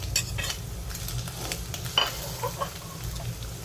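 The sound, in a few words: chicken cooking in a pan for pancit bihon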